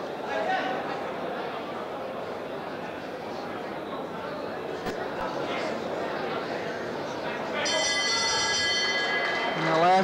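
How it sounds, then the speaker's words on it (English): A boxing ring bell rings to end a round in a bantamweight bout, sounding as a bright ringing tone near the close of the round over steady, loud arena crowd noise and commentary. "And the left from Mullings just probably on its way just as the bell sounded"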